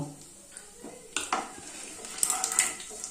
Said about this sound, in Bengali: এই তেলের মধ্যেই আমি এই জিরে ফোড়ন মৌরিগুলো দিয়ে একটু ভেজে নেব